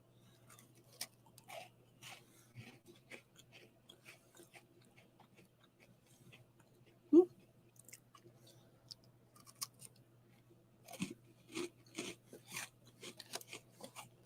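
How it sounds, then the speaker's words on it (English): A crispy chocolate chip cookie made with brown sugar, butter and dark chocolate is broken and crunched up close, with sparse dry crackles and one sharper snap midway, then a busier cluster of crunches near the end. "Let's break it in half. Oh, it's kind of hard. It's kind of a crispy cookie."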